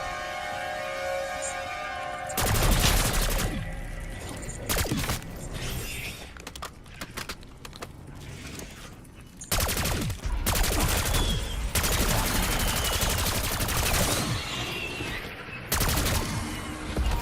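Gunfire from the zombies game Liberty Falls, with dense bursts of rapid shots and fusillades separated by short gaps, loud and close, plus mechanical weapon clicks and a low hum between volleys.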